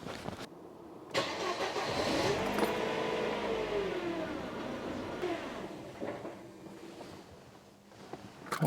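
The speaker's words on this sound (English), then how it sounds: "it's finally idling, just not very nicely" A Mercedes W124 E220 with a suspected parasitic electrical drain cranks and catches, then settles into a rough, uneven idle, its engine note wavering and stumbling for several seconds before fading toward the end.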